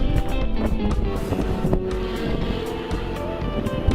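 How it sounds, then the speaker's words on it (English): Strong, gusty wind blows outdoors, buffeting the microphone with a loud, continuous roar and rumble that swells and dips throughout, with no talking. "Very blustery up here."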